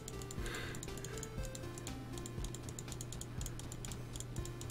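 Rapid, steady clicking of computer keyboard keys during play of the Republicans! Mission Majority game, close and continuous over a constant low hum, with no talking.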